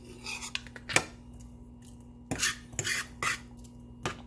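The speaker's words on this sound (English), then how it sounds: "Might want to stir it up a little bit, get the butter on it." A utensil scrapes and clinks against a pan while stirring spices into melted butter at a camp cooking setup, with a few sharp taps early and a cluster of louder scraping strokes later.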